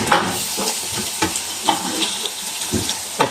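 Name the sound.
tomatoes added to frying onion, garlic and ginger paste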